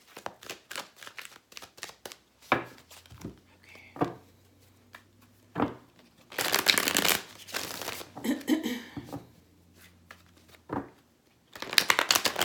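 Chakra and tarot cards being shuffled by hand, with bursts of crisp riffling and flapping cards alongside softer taps, the noisiest flurries coming in the middle and at the end, near and clear with no talking.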